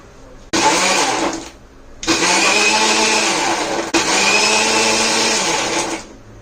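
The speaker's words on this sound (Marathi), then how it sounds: "कधीही एकदम मिक्सर फिरवू नये" Kitchen mixer blending papaya juice with ice cubes and milk, run in three loud bursts with short pauses between, the motor whine steady during each burst.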